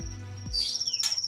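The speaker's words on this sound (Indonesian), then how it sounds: "yang mendukung murai batu ini terus berkicau semakin panas" A white-rumped shama (murai batu) sings close by, a few loud whistled notes and a sustained high tone followed by a burst of rapid chattering phrases, with no talk.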